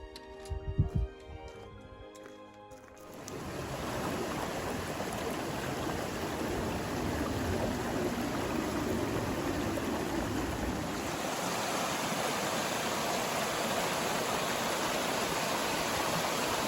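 A mountain creek in North Cascades National Park rushes with a steady, broadband hiss close by, starting after a few seconds of quieter trail sounds and continuing unbroken to the end.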